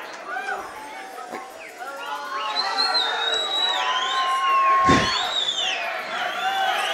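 Crowd noise at a boxing fight between Tanner Grant and Julio Rios: a dense, steady roar of voices with shouts and whistles rising toward the end, continuous and fairly loud, with talk mixed into the din.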